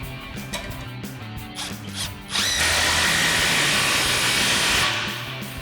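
On a gas Chevrolet Silverado 2500 with a Stainless Works Redline dual exhaust, a power tool tightens the muffler inlet clamps. Short ratcheting bursts are followed by a sustained loud, close whir that fades off at the end.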